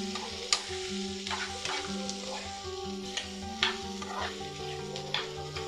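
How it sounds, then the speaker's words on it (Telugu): Chopped taro root (chamadumpa) frying in oil in a pan, a steady sizzle broken by several sharp scrapes and knocks as a spoon stirs the pieces, heard close with no voices. "ఒక 5 నిమిషాలు ఇలా వేయించండి."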